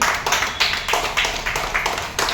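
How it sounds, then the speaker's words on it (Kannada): A small group claps for Subbalakshmi amma at a cake-cutting, steady rhythmic clapping close by throughout the short stretch. "ಸುಬ್ಲಕ್ಷ್ಮಿ ಅಮ್ಮಂಗೆ ಜೋರಾಗಿ ಚಪ್ಪಾಳೆ ಹೊಡೆಯಿರಿ"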